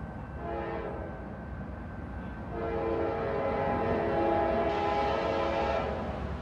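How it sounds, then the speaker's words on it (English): A Norfolk Southern combination autorack and double-stack freight train sounds its air horn in long steady blasts over the rumble of passing rail cars, loud and close, alone without talk. "Auto rack and double stack train right here."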